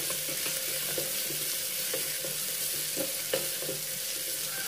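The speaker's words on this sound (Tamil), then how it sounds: "பாருங்க, தக்காளி நல்லா வதங்கிடுச்சுங்க" Tomatoes sautéing in a pan for an amaranth greens dish, a steady close sizzle and fry with occasional light stirring scrapes and clicks throughout, no talk.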